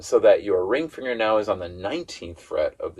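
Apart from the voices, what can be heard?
No everyday noise stands out behind the speech.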